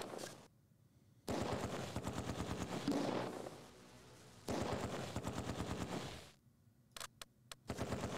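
Machine-gun and rifle fire rattles in the Close Combat 2 war game, with long rapid bursts separated by quiet gaps, then a few sharp single shots at the end.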